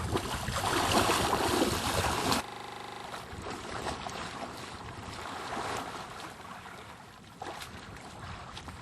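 Someone swims in chest waders, water sloshing and splashing loudly up close at first, then settling into quieter lapping and wind noise with occasional splashes.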